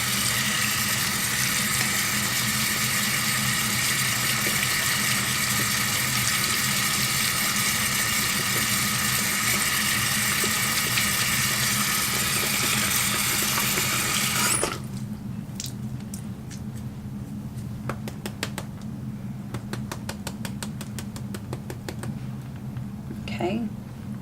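Tap water runs steadily and loudly while makeup brushes are rinsed under it, a broad rushing wash that cuts off partway through, leaving a quieter room with faint scattered clicks.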